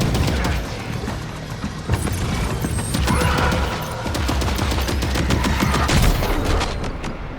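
Dense, sustained gunfire from a firefight in Death Stranding 2, rapid overlapping bursts and booms filling the whole stretch at close range, with no talk over it.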